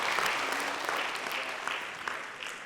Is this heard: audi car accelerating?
no